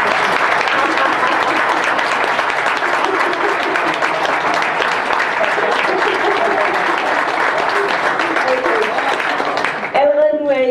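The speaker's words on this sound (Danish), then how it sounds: "Gider I lige at klappe, mens vi siger ha ha ha ha ha ha." Audience at a PechaKucha event in Frederikshavn clapping steadily and loudly while chanting ha ha in rhythm, a dense wash of applause lasting several seconds before fading.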